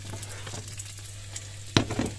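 Bacon frying in a pan with a little added oil gives a steady, fine crackling sizzle, with a sharper clatter of stirring or a utensil near the end.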